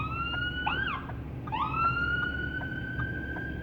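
A wailing fire truck siren, the fire chief's vehicle, rises and falls twice, then holds a steady high tone, moderately close with traffic rumble beneath during a winter drive.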